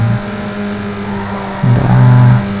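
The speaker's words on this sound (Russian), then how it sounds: "Блин, тачка не разгоняется." Engine of a car in the Need For Speed: Underground 2 video game drones steadily at high revs, then swells louder and revs harder partway through, close and continuous with no talk.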